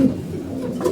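Pigeon cooing in a loft of pet pigeons, a low steady murmur held through the moment, fairly close with no talk over it.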